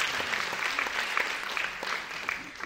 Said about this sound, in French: vous pouvez applaudir généralement.